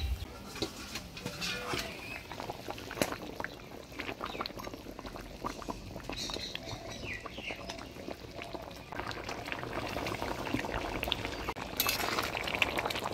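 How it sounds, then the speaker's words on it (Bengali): Fried rohu fish pieces go into a simmering, spicy kalia gravy, with a continuous bubbling, wet sizzle and faint clinks of a utensil throughout. "ঝোল ঝাল হয়ে আসছে, এবার ভাজে রাখা মাছগুলো দিয়ে দেব।"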